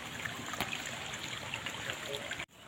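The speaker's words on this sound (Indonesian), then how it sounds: "Ini ditutup itu sumber air ya, atau sungai mungkin, atau selokannya." Water runs steadily through a covered stream or ditch in a rural West Java village on a rainy afternoon, a faint, continuous trickling rush that cuts off abruptly near the end.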